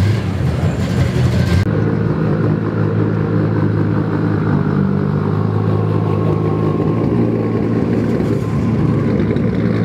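A modified Toyota Supra running close by at a car gathering, its engine a loud, rich rumble and drone that holds steady throughout, with a sharper high-pitched edge at the start that quickly drops away.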